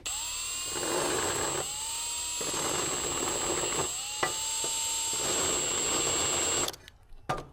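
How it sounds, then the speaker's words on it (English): A drill runs against an aluminum boat trailer bracket to remove burrs, giving a high, steady whine with short bursts of grinding contact and brief pauses before it winds down near the end. "lightly go over it with a drill or drill press"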